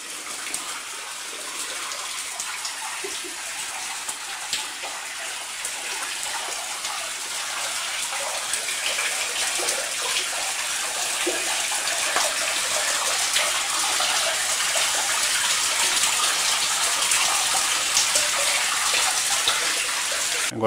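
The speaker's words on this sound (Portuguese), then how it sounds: "tem uma água corrente ali bem limpinha" Clean running stream water at the end of a mountain trail in Alto Caparaó National Park rushes in a steady, hissing flow, close and continuous with no voices.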